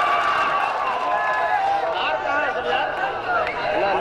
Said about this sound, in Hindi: पुरजोर ताली बजाकर इस्तकबाल करें शाह खालिद का।